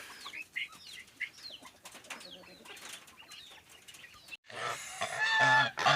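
Several hens cluck and squawk repeatedly nearby, with a burst of louder, busier cackling and fluttering toward the end.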